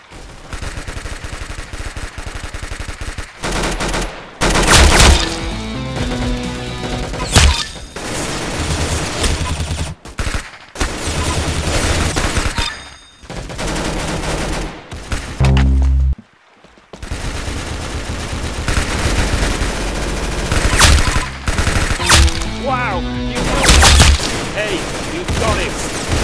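Rapid bursts of video-game gunfire clatter loudly in quick fusillades, with single heavy shots and brief lulls between volleys, and voices talk over the action.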